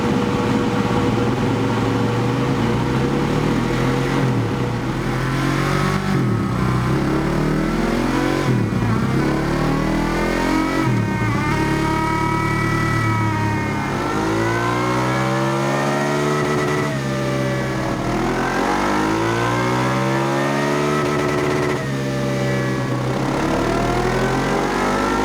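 A KTM 690 Enduro R Euro 5 single-cylinder motorcycle revs on a dyno during ECU tuning, repeated loud climbing revs that drop back and rise again across the run, with no talk.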